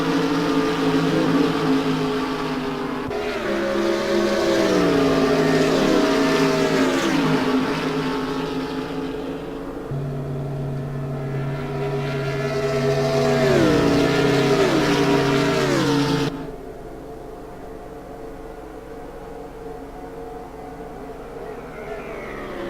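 Racing cars in the simGT sim racing game at Monza roar down the back straight, engines rising in pitch through upshifts in two long passes before dropping to a quieter drone.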